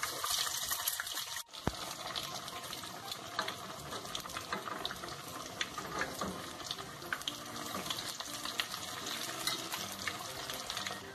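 Rabanada bread slices frying in oil, a dense, continuous bubbling hiss close by, steady and moderately loud after a sharp knock near the start.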